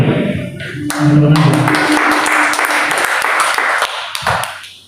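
A church congregation claps together during a worship service, a dense burst of hand claps sustained for several seconds with some voice and music underneath, fading near the end.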